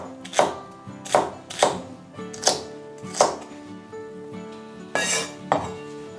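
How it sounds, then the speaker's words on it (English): Knife chopping celery sticks on a kitchen board: about ten crisp, evenly spaced cuts at close range, each with a faint clack, with no voices. "now I'm using 2 sticks of celery"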